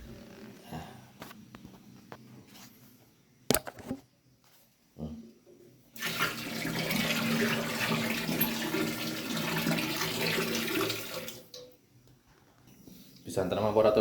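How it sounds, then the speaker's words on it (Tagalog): Heated water pours steadily into a bucket for a morning bath, a continuous splashing rush lasting several seconds after a few brief knocks and clatters, with a short pause before it ends. "Butang natin sa tubig sa mga kabor, napaliguan."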